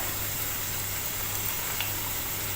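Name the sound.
ginger ribbon paniyaram dough frying in hot oil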